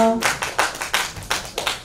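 Audience clapping to welcome a children's poet on stage at a literary concert: a sparse, steady run of distinct hand claps from a small group, close and clear, with no talk over them.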